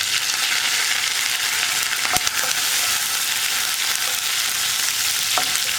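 Curry leaves sizzle in hot coconut oil for a green peas masala, a loud, steady hiss broken by a couple of sharp crackles.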